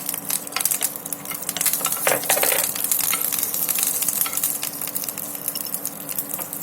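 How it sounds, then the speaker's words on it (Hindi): Peanuts fry in a pan with a loud, dense sizzle, stirred continuously so the kernels rattle and scrape against the metal in quick irregular clicks, with no speech. "मूंगफली के दाने और इन्हें भी ऐसे हिलाते हुए थोड़ा सा फ्राई कर लेंगे।"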